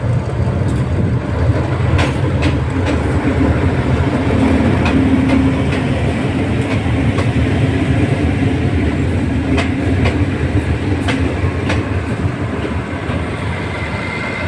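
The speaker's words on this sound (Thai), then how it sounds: "เป็นขบวนรถด่วนที ่ 84 นะครับ จากตรังนะครับกำลังเข้าสู่สถานีกรุงเทพ" Express train no. 84 from Trang pulls into Bangkok station, a steady loud rumble of rolling wheels and rail clatter with periodic clicks over the joints, continuous throughout.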